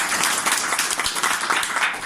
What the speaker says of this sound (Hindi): जी एक जोरदार ताली हो जाए।